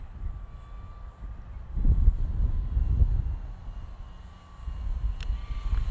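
A Dynam P-51D Mustang V2 RC model plane running on a 2200 3S battery, heard as a steady electric motor and propeller whine with a faint high tone, swelling and fading as it passes overhead against light wind.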